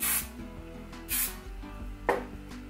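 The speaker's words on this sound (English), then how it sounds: "I'm just gonna spray a little bit on either side of that piece" Joico Joy Mist firm hairspray sprayed onto hair in three short hissing bursts, with pauses between them, close to the microphone.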